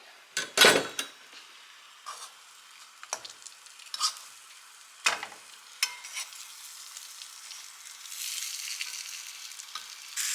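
Bacon frying in a pan for a carnivore-diet breakfast, a faint continuous sizzle broken by sharp utensil clacks and scrapes against the pan, with the hiss growing a little fuller toward the end.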